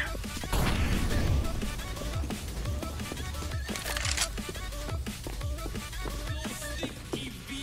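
An incendiary grenade is thrown during a Counter-Strike match, landing with a crashing impact that gives way to crackling, sputtering fire amid scattered game effects and background noise.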